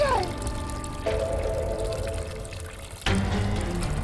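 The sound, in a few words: lots of water pouring and flowing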